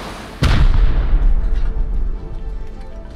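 A rocket launcher round in Rust detonates with a single sharp, powerful blast, then a rumbling tail and scattered debris noise fading over a few seconds.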